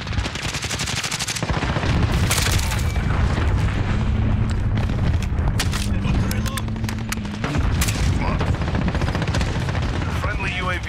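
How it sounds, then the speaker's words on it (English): Cruise missile strikes in Call of Duty: Modern Warfare Ground War on PC, a dense, loud roar of blasts and gunfire that runs without a break, with a radio-style voice announcement over the barrage. "Enemy cruise missile incoming."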